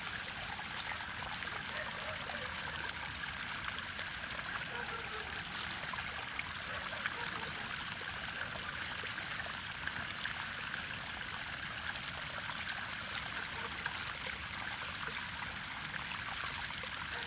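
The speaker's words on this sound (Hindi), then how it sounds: "एक छोटा सा झरना यहाँ से निकल रखा है ऑटोमेटिकली।" A small natural waterfall stream runs during the rainy season, a continuous, even rush and trickle of water that stays steady and fairly soft for the whole stretch, with no voices.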